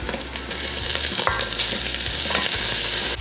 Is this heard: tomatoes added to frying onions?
yes